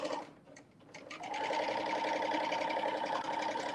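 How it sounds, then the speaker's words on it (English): A serger overlocks the edge of non-woven fabric, starting after a few soft clicks and then running in a steady, fast mechanical stitching rattle at close range. "my least favorite thing about working with a non woven fabric is you need to serge it"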